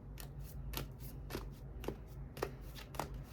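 Tarot cards being shuffled in a quiet room, a series of soft riffling and snapping bursts roughly every half second over a low steady background hum, with no voices.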